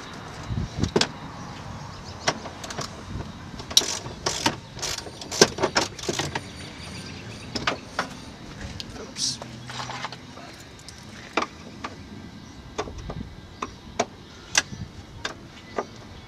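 A ratchet wrench breaking loose 10mm bolts while stripping the interior of a rally car in a garage: irregular sharp clicks and metallic clacks in scattered bursts, close and fairly loud, with occasional faint talk.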